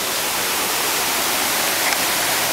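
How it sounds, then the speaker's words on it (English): A farm creek running high after rain makes a steady, loud broadband rush of flowing water that fills the whole stretch without a break. "here's the creek now"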